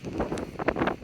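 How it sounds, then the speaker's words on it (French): Strong wind buffets a microphone outdoors in the Jura mountains, giving irregular low rumbling gusts throughout the short stretch with no speech. "il y a un sacré vent"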